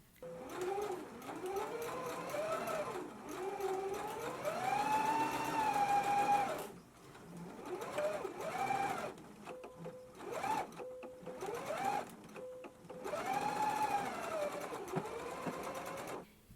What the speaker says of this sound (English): we can go ahead and stitch it at a 5/8 of an inch seam allowance.